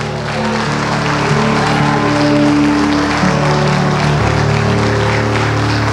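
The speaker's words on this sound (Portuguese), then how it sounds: "Alguém pode aplaudir o Senhor?" A church congregation applauds during a worship service, with loud, sustained, dense clapping from a large crowd that fills the whole stretch without pause.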